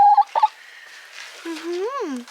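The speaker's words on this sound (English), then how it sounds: "You are a crazy little chicken." A backyard hen makes a few short clucks, then a longer rising and falling squawk, close and fairly loud, with no talking over it.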